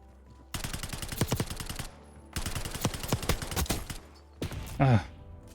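Black Ops 6 gunfire comes in two long bursts of rapid, loud cracking shots with a brief gap between them, followed by a shorter sharp burst and a rising in-game tone.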